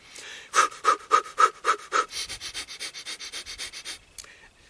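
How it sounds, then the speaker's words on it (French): Breath of fire breathing exercise: about seven forceful, evenly spaced sniffing breaths, then a faster run of softer rhythmic pants that trail off, close and clear with no talking. "tu peux faire la respiration du feu"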